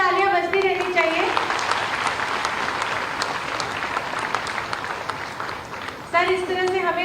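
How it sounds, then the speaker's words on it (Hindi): An audience at an Indian public event led by a state chief minister breaks into loud, sustained applause that fills the room for several seconds, with a voice speaking at the start and again at the end. "जोरदार तालियां बजती रहनी चाहिए।"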